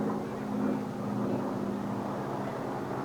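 A racing airplane engine at the 1979 Reno Air Races keeps up a steady, moderately loud drone with no break and no talking.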